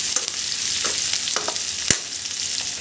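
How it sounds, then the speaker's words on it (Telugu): Onions and green chillies frying in a pan for an egg curry, a continuous close crackling sizzle with a few sharp stirring clicks, no talking. "ఆనియన్స్ బాగా వేగాలి."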